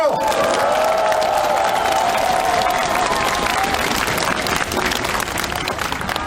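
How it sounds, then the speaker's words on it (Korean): Crowd applause and cheering at a political party gathering for two young speakers, a sustained loud wash of clapping from a large audience, with some tonal sound drifting over it early on. "우리 큰 격려의 박수 한번 보내주십시오"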